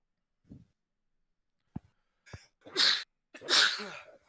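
Two loud, close sneezes in quick succession, each preceded by a short sharp inhale, with a few faint breaths before them.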